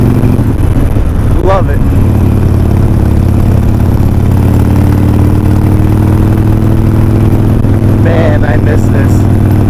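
Harley-Davidson Iron 1200 with a Vance & Hines 3-inch slip-on exhaust and fuel pack rumbles steadily and loudly close by throughout, with someone talking over it.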